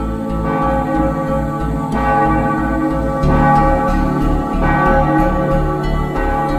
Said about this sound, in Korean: 여명을 깨우는 맑은 종소리가 매일 새벽마다 울려 퍼지는 곳